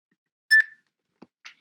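A workout interval timer gives a short electronic beep as it starts, followed by a couple of faint clicks and chirps in otherwise quiet surroundings.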